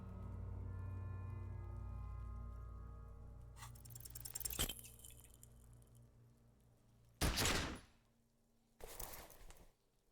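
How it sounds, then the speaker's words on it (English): A weapon fires in the video game Disco Elysium: sharp, broad bursts over a fading low musical drone, one strong near blast followed by a shorter echoing burst. "You hear an explosion within the weapon in your hands."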